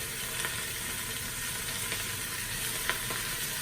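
Italian beef sears in a Ninja Foodi, a steady close sizzle and crackle of frying meat that carries on without a break, with no talking.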